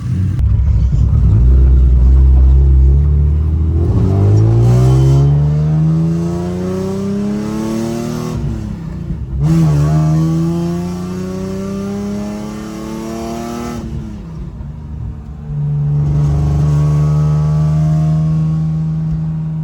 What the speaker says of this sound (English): we're gonna drive it and see how it drives